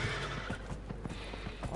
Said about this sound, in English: Oh, it's the horse.